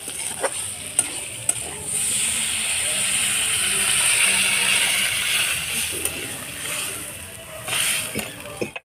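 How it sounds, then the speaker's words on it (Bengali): Water is poured into spices frying in oil in a pan with potatoes for a paneer curry (paneer jhol), raising a loud hissing sizzle and steam that slowly fades, with the clink of a spoon against the pan now and then. "এবার আমরা জল দিয়ে দেবো।"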